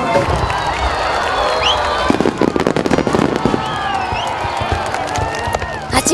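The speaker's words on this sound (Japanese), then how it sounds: "8月10日の夜には安神祭のメインプログラムでもある海の花火大会が行われます。" Fireworks at a seaside summer festival in the Ito hot spring town crackle and pop continuously, with dense bursts and booms over a murmuring crowd and scattered cheers.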